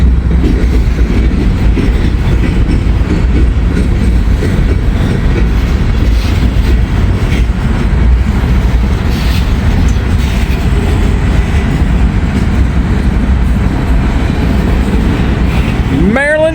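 Maryland Midland trains roll through a station without stopping, a loud, steady rumble of railcars with clickety-clack wheels close by and a brief wheel squeal near the end.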